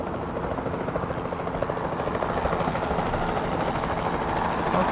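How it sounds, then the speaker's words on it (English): A capture team helicopter in a dinosaur-park video game hovers overhead with a steady, loud rotor drone and dense whirring chop that holds evenly throughout, with no voices over it. "Then the sensible thing is to take a capture team helicopter."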